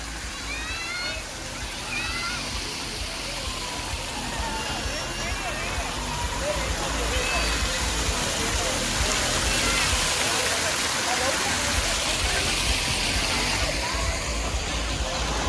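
Continuous rushing, splashing water from a wave attraction at an amusement park fills the scene at steady loudness, with faint chatter of voices mixed in beneath the surge.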